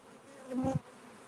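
A honey bee buzzes briefly beside a beehive during an inspection, one short faint drone swelling and fading within about a second.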